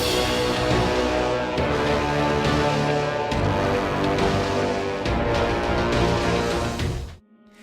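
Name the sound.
4-note bass motif from Destiny The Taken King raid music, video game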